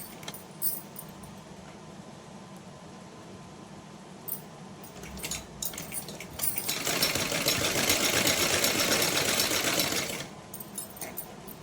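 A sewing machine stitches a folded cotton dhoti for a Laddu Gopal idol, a steady whirring run that swells louder for a few seconds midway, with small clicks and handling noises around it.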